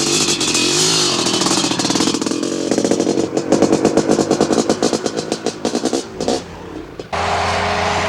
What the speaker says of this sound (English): This is one of his 2 brand new Honda 500s he'll be using in this year's competition.